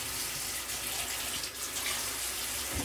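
Water running steadily from a tap while hair is wetted during an at-home bob haircut, a constant close hiss of flowing water that stops abruptly at the end.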